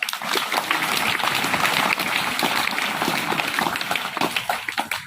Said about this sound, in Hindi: ताली बजा लो एक बार